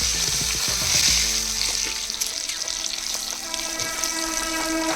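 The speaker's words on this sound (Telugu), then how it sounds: "ఒక 1/2 టేబుల్ స్పూన్ పసుపు, 1 టేబుల్ స్పూన్ కారం వేసుకుని చక్కగా ఎగ్స్ ఫ్రై చేసుకోవాలి" Boiled eggs fry in oil with turmeric and chili powder, giving a loud, continuous close sizzle that hisses evenly throughout with no voices.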